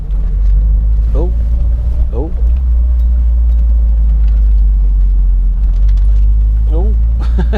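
A Peugeot 205 CTi without power steering rounds a roundabout, its engine a steady, loud low rumble throughout, with brief voice sounds breaking in now and then.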